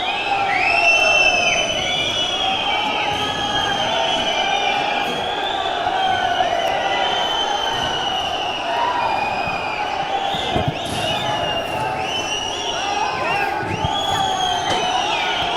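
A large crowd of protesters in Shimla advancing after barricades give way, a dense, continuous roar of shouting and cheering voices with scattered whoops and chants over a steady murmur.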